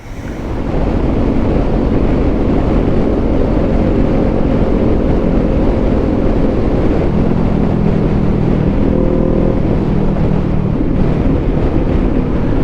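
A motorcycle engine runs steadily and loudly up close throughout, a continuous rumbling drone with wind buffeting the microphone; distinct exhaust pops do not stand out.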